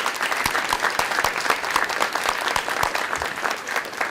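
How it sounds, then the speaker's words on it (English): A board meeting audience claps for district teachers, with individual hand claps standing out as distinct sharp hits over a continuous bed of applause. "And if you can, one more round of applause for the teachers of Huron Valley."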